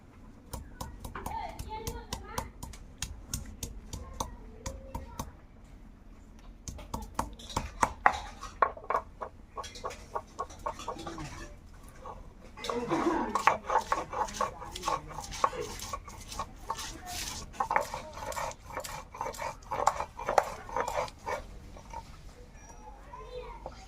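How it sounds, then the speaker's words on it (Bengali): Ginger and garlic being ground into a paste for a Bengali fish, potato and eggplant curry, heard as rapid rhythmic pounding and scraping strokes, close and steady, with grinding bursts continuing throughout. "আদা রসুনটাকে প্রথম বেটে নেব"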